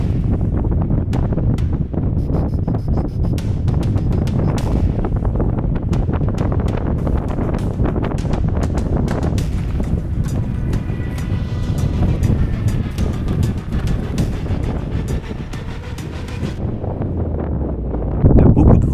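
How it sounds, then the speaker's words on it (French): Strong wind buffets the microphone in a constant, loud roar with gusty rumbling throughout, steady from start to finish, high on an alpine climbing route on Aiguille de la Grande Sassière. "Il y a beaucoup de vent."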